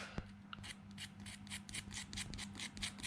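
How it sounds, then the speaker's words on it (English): A razor blade scrapes the commutator of a 1965 Toyota FJ45 F135 starter motor, giving a steady series of close, rapid rasping strokes under a low background hum. "I'm just going to get a razor blade now,"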